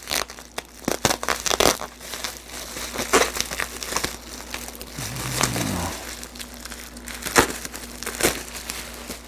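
A taped shipping package being unpacked, with irregular crinkling, crackling and tearing of packing material in close bursts, plus a brief tonal squeak midway and no talking.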